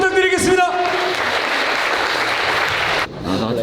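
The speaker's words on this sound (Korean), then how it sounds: "최선을 다해 싸우는 카우보이 선수께 큰 박수 부탁드리겠습니다." An audience claps for a fighter after a bout, a dense, loud burst of applause that holds steady and then drops away, with a voice heard briefly at the start and end.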